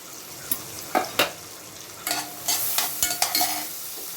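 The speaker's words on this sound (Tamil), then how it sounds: "இந்த பூண்டை வந்து இந்த பட்டரில் வந்து நம்ம வந்து நல்லா ரோஸ்ட் பண்ணி எடுத்துக்கலாம்" Garlic roasting in butter in a pan, with soft sizzling and several short scraping stirs spread across the clip, close by and with no talk.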